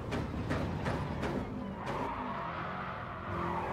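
A Subaru WRX STI in a racing video game skids and squeals its tires under handbrake, with repeated rhythmic engine bursts and tire scrub over a continuous close engine drone, no voices.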